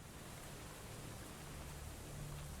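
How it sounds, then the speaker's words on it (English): Steady rain ambience in the fantasy role-playing game Of Ash And Steel, a soft, even hiss of rainfall with no distinct drops, quiet and unbroken throughout. "And an awkward transition to rain."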